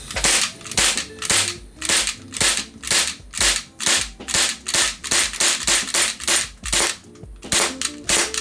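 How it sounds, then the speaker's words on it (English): ISSC M22 airsoft pistol firing over and over in a steady rhythm, each shot a sharp crack with a mechanical slide click, close and loud, with a short gap near the end. "here's the click and the sound of this gun"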